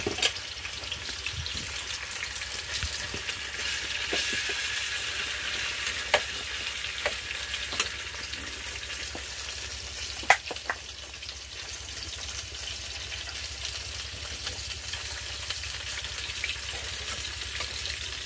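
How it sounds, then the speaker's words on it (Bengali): Hilsa fish frying in hot oil in a wok, giving a steady, close, unbroken sizzle with scattered small pops and crackles throughout, no voices. "এখন আমি ইলিশ মাছগুলো হালকা করে ভেজে নেব।"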